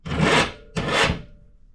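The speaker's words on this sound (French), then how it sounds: "Donc, un petit coup de lime, tout propre" A hand file makes two steady rasping strokes across the burred end of a metal bar. The strokes are close and fairly quiet, with no talk.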